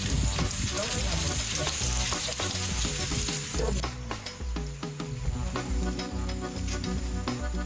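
Pistachio being stirred in a hot pan over the fire, with a steady loud sizzle and frying hiss under repeated scraping strokes of the spoon, the sizzle easing slightly partway through.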